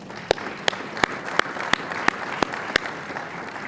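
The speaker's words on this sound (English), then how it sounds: "Can we give him another round of applause?" Sparse, distinct claps ring out at an awards luncheon for a golf association, about eight sharp hand claps at a steady pace, fairly quiet and close.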